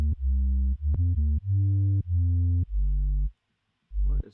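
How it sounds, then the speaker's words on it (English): Sine wave bass from an electronic music mix, a run of loud, pure low tones in short sustained notes of varying pitch, stopping briefly before one last note. "which is just a sine wave."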